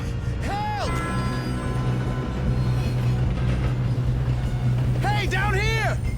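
A steam-era train rolls along rails in the video game Red Dead Redemption 2, a steady low rumble and rattle throughout, loud and close, with short voiced shouts near the start and end.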